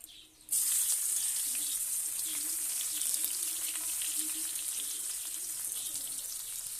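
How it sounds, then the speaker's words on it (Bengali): Onion bursts into a loud sizzle as it hits hot oil in a wok, then settles into a steady, close frying hiss with faint crackles and no speech. "পেঁয়াজটা ভাজা হয়ে গেছে দিয়ে দেবো টমেটো"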